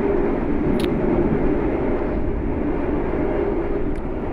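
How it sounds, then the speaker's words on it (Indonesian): Loud, steady rumbling roar inside a moving train carriage, a constant broadband din with brief faint squeals, no talking. "Mohon maaf banget aku di kereta bising."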